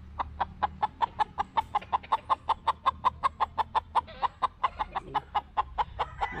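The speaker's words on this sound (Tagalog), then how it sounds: "So, pakita natin dito yung mga manok nila. Yan. Boston. Mga Boston Cross." Boston Cross chickens give a steady run of sharp, evenly spaced clucks, about four per second, close and fairly quiet over a low background hum.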